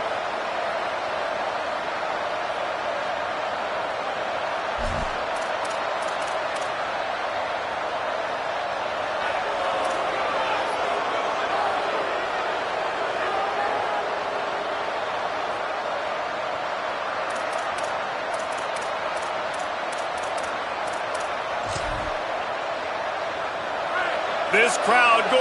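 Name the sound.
stadium crowd noise at an Oregon football game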